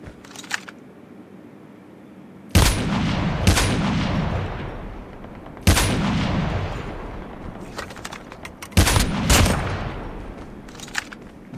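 Sniper rifle shots in the mobile game Call of Duty Mobile, four loud sharp cracks spaced a few seconds apart, each with a long rolling echo, plus fainter distant shots between them and no talking.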